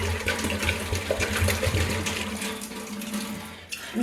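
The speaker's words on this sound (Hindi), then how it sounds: "पानी भी डाल रही हूँ मैं। पानी डालने के बाद चाय चढ़ा देंगे।" Water pours steadily into a pot for tea, a continuous close splashing and gurgling stream that holds for a few seconds with no talking.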